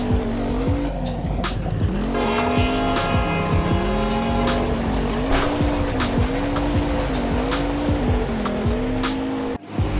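Racing car engine in the mobile stunt-driving game Stunt Car Extreme, a loud steady motor rising and falling in pitch through repeated gear-like sweeps, with sharp tire squeals and skids layered throughout before cutting off abruptly near the end.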